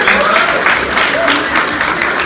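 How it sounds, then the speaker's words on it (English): A crowd at a comic convention claps in a sustained round of applause, dense and loud throughout the short stretch, with a voice speaking over it. "Everyone give him a round of applause, please."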